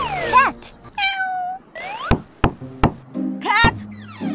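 A cartoon cat meows several times in short rising and falling calls, close and clear, with sharp knocking taps in between and a brief spoken word.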